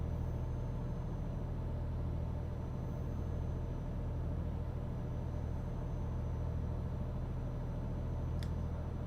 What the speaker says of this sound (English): It's a Renault, although you have to ask yourself why. Because it sounds like an absolute beast when you pull away with it.